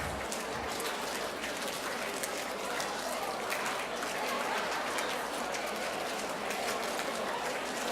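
Conference on emotional intelligence, where the audience plays a number game and claps on cue: a dense, distant, fairly faint patter of many hands clapping continuously, mixed with crowd murmur.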